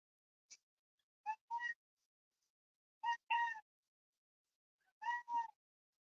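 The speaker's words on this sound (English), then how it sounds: "I'm just wrestling with this cat." Cat meowing while wrestling with its owner, several short close meows in pairs separated by quiet pauses, with a faint brief squeak at the start.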